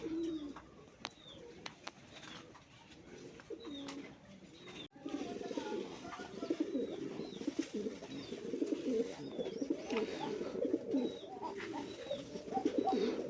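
Male black-legged shirting pigeon cooing in a breeding loft, soft repeated coos amid other pigeons, fairly faint with a busier stretch of flock sound in the second half.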